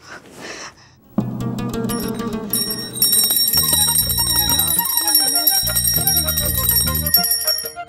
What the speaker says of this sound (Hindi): घंटी कहाँ गई?